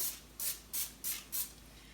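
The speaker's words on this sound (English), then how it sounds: "I'm just going to take some extra virgin olive oil spray and just lightly dust them." Extra virgin olive oil spray misted lightly over pizza egg rolls, four short even hissing bursts evenly spaced, close and clear with no talk.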